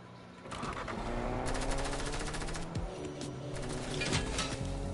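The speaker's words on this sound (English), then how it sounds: "Being shot at." Rapid gunfire rattles through a Fortnite match, bursts of shots overlapping with a steady layer of game ambience, fairly close and continuous throughout with no voices.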